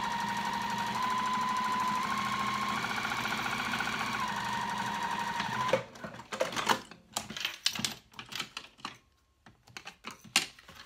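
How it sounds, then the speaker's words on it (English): Sewing machine stitching cork and lining fabric with a quarter-inch seam, a steady close mechanical hum running for several seconds, then breaking into short irregular bursts and clicks. "So I'm going to go ahead and stitch with a 1/4 inch seam allowance."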